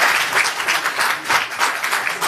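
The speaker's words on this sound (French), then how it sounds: "Ça s'applaudit." Applause after remarks on a new land subdivision decree in Côte d'Ivoire, a dense steady patter of clapping with small swells, lasting a couple of seconds.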